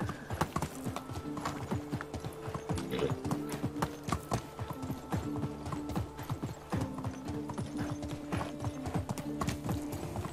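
Horse hooves clip-clop steadily in the medieval life-sim game Medieval Dynasty, a brisk continuous rhythm of hoofbeats with a brief whinny amid tonal background music.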